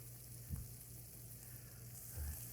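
Steak warming gently in a pan, a faint, even sizzle with a couple of soft low bumps, quiet and continuous with no voices.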